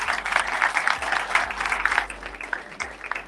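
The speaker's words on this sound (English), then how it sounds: "Can we clap our hands for God being God?" An audience claps its hands for a few seconds, a dense, continuous patter of applause that stays loud and steady throughout with no voices over it.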